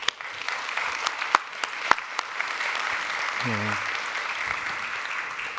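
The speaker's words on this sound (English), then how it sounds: "join me to a round of applause for these 6 years of ITB Berlin" A conference audience at the ITB Berlin opening gives a sustained round of applause, broad and steady, with a few sharp nearby claps standing out and a brief voice murmuring partway through.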